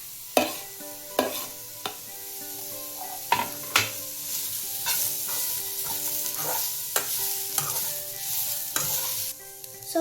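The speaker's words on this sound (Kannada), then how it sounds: "ಈರುಳ್ಳಿ ಕೂಡ ಸ್ವಲ್ಪ ಬ್ರೌನಿಶ್ ಆಗೋ ತನಕ ಫ್ರೈ ಮಾಡಬೇಕು." Onion and grated coconut fry in a pan while a spoon stirs them, the steady sizzle broken by repeated sharp scraping strokes at an uneven rhythm, close and alone with no voices.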